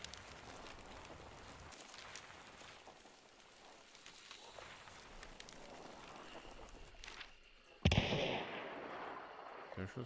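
A single loud gunshot cracks in the video game Hunt: Showdown, sharp and sudden against quiet rainy ambience with soft footsteps, followed by a lingering echo; someone talks quietly before it.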